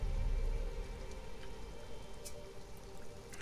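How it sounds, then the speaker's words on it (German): Steady rain in the video game Sheltered, a soft continuous hiss of falling water at an even level throughout, with no voices over it. "Es regnet einfach ununterbrochen hier"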